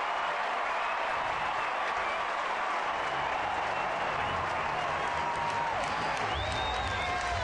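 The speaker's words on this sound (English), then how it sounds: "They've been waiting to cheer, and they're having a ball." A baseball crowd at a San Francisco Giants home game against the Los Angeles Dodgers cheers and applauds after a base hit, a dense, steady roar of clapping and shouting that holds for the whole stretch.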